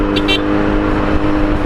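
A Porsche car rolls past a rider on a Kawasaki Z900 motorcycle with an Akrapovic exhaust, heard as a loud, steady engine and road roar close by, with a couple of brief higher chirps at the start.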